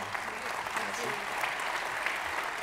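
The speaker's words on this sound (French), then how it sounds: "on peut les applaudir une nouvelle fois" Steady, dense applause from an audience at a building and real estate awards ceremony, honouring two trophy winners, continuous clapping filling the room at moderate level with faint voices mixed in.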